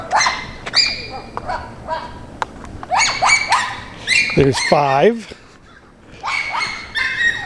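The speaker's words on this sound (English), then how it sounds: "That dog was making a lot of noise this morning" A small dog at a state park campground lets out a brief run of whimpering, yelping cries partway through, while a person talks over most of the clip.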